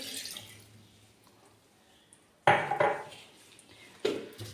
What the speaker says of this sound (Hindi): मैं ये 1 गिलास जो दूध है वो इसमें डाल दूँगी